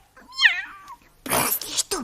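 A cat in a Romanian radio comedy sketch gives a drawn-out, rising and falling meow, followed by a brief noisy, hissing burst and a short cry, fairly faint and with no talk over it.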